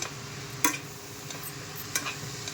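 Tofu with tomato, onion, salt and turmeric is stirred in a pan, with faint low sizzling and a few sharp spoon scrapes and taps against the pan.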